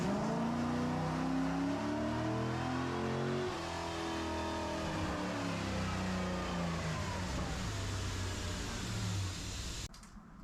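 A vintage Corvette engine runs and revs in a garage, a loud steady idle swelling with throttle blips, rising and falling in pitch for about ten seconds before cutting off abruptly near the end.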